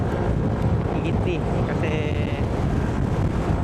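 Strong wind roars steadily across the microphone with a low rumble throughout, while a voice speaks briefly underneath.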